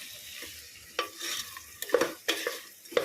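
Pav bhaji vegetables with salt being stirred in a frying pan, producing a quiet bed of sizzle broken by several sharp spatula scrapes and clacks against the pan at uneven intervals, close by.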